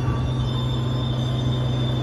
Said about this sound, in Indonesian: Ini ada kereta masuk dari sana